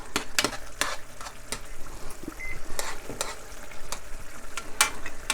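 Ground turkey frying in extra virgin olive oil for spaghetti, stirred with sharp utensil scrapes and clicks over a steady close sizzle.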